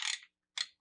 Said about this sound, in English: Use a 9/16 double square socket